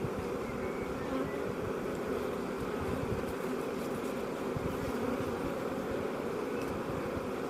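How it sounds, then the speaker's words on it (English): Dense buzzing of a huge honey bee colony during a hive inspection, a loud, constant, close drone with no pauses. "just so many bees"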